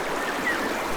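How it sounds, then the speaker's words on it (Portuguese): Falling water from a waterfall, used as a sound effect, gives a steady, dense rushing hiss with no breaks, moderately loud and alone. "o som daquela cachoeira"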